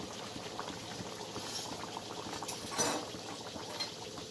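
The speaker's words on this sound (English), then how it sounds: "we can add bedouin like Himachali breads into the oil, so that our breads completely cook in a very large amount of oil" Potato-stuffed Himachali beduwa breads deep frying in a large amount of oil on a low flame, a steady bubbling sizzle with a brief louder burst near the end.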